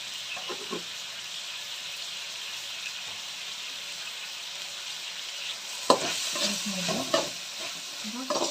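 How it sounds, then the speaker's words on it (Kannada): Tomatoes cook in oil in a pan, with a faint, steady sizzle and a few quiet scraping stirs near the end. "ಟೊಮೊಟೊ ಎಲ್ಲ ಚೆನ್ನಾಗಿ ಸಾಫ್ಟ್ ಆಗೋವರೆಗೂ ನಾವು ಬೇಯಿಸ್ಕೊಬೇಕಾಗುತ್ತೆ"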